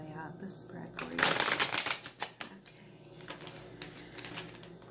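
Tarot cards shuffled close up in a quiet room, a few bursts of riffling and fluttering card noise, loudest early on, then lighter shuffling with a voice speaking now and then.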